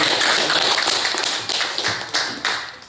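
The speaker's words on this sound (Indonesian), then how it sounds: "Oke, tepuk tangan dulu." Classroom applause from students, a dense burst of clapping that starts loud and thins out over a few seconds with scattered sharper claps near the end.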